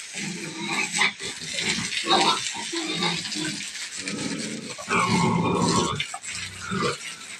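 A young pig grunts and snorts repeatedly at close range in a farmyard during a washing, with loud, irregular bursts and short pauses.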